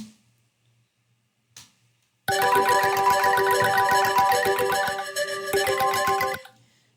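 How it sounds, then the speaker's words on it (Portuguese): A taxi dispatch system sounds its ride-dispatch notification: a loud, bright electronic ringtone melody that starts suddenly after near silence, plays steadily for about four seconds, pauses briefly, then repeats before cutting off. "Vai ter o toque ali da corrida sendo despachada."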